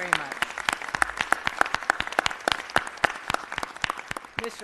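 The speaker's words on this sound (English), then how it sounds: "Let's give her a round of applause, everyone." Scattered claps from a modest group at a city council meeting, honoring Jackie Goldberg; distinct individual hand claps in an uneven rhythm, fairly close and moderately loud, with no talk over them.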